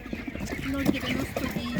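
A hen at an outdoor animal market gives soft, intermittent clucks close by, mixed with other fowl noise and a murmur of voices and market bustle.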